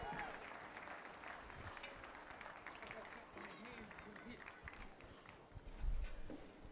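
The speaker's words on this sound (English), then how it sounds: "Give a round of applause." An audience at a live timbersports competition claps in a continuous, fairly faint burst of applause while an announcer speaks over it.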